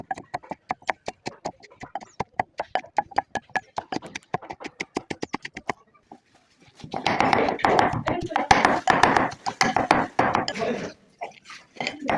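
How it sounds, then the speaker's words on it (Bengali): Ginger and garlic are pounded by hand outdoors in the sun: a long run of quick, evenly spaced thuds, then a short pause, then a denser, rougher stretch of crushing and grinding close by. "রোদে ছিলাম আর আম্মুকে আদা রসুন এগুলো ছেঁচে দিচ্ছি।"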